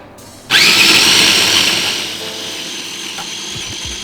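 A blender blending chili paste whirs to life abruptly, running loud and steady at high speed, then settles to a slightly lower whirring drone.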